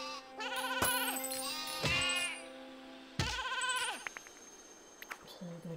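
Sheep bleating on an island in the iPad game Skylanders Lost Islands, two or three tonal, wavering bleats spaced a second or so apart, followed by softer chimes and clicks of game sounds.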